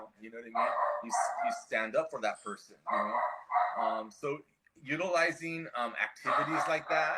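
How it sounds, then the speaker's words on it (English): A pet dog barks repeatedly in a home, rapid yips and barks layered over a person speaking continuously close by. "Sorry, that's our dog."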